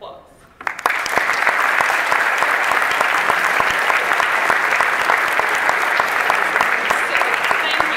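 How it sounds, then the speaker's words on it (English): Audience applause for students at a ceremony honoring a South Central teacher, bursting in after a quiet moment and holding as a loud, dense, continuous roar of clapping from a close crowd. "I'd like to give you guys a round of applause."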